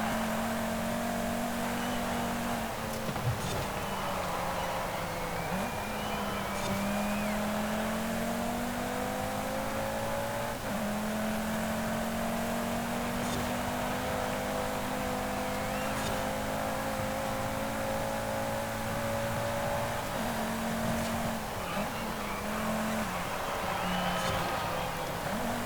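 A 2018 Audi TT RS engine drones loudly and continuously in Forza Horizon 5, holding steady high revs with a few gear-change dips and climbs, heard close and alone for the whole stretch.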